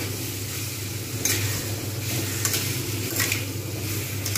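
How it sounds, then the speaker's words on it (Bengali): Tomato masala for a Bengali bhetki fish and cauliflower curry sizzles in oil in a pan while being stirred, with a steady fry hiss and a few sharper scraping strokes of the spoon. "ভালো করে আমি এটাকে এখন কষবো।"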